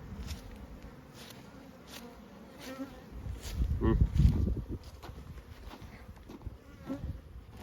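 Honey bees buzz around an open hive while a beekeeper clears out a false queen, a constant droning swarm with a closer bee passing loudly midway and someone talking intermittently over it.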